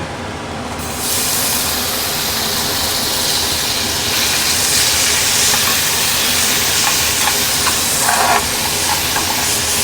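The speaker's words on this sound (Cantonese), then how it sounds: "咁我哋而家咧其實咧炒牛肉先啦" Marinated beef hits a hot wok with a loud, steady sizzling hiss that starts abruptly and runs on without a break, close and dominant, with no talk over it.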